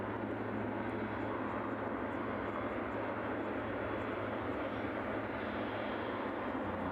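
Boeing 777 engines at East Midlands Airport, one engine reported faulty earlier, give a steady, loud broadband roar that holds evenly throughout with no voices over it.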